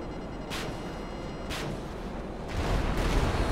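Naval guns firing on an enemy ship in GTA 5, with an aircraft carrier mod in play: dull booming shots about once a second over a constant low rumble that swells near the end.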